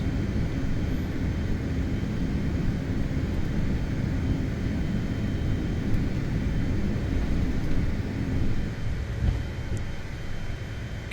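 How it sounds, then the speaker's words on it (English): A CRJ regional jet climbing out after takeoff from Vancouver, its engines giving a steady, loud, broadband roar that holds for the whole stretch, with no voices over it. "start rotating the plane up. Positive rate of climb, so we can go gear up."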